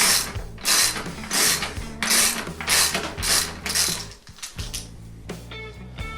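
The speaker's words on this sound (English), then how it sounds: "So I'm taking the nut off, and then I'm gonna take the washer off too." A nut is being removed from a bike peg on an SE Racing Blocks Flyer BMX. Loud, close ratchet clicking comes in rhythmic bursts with short pauses, then a lighter metallic rattle near the end.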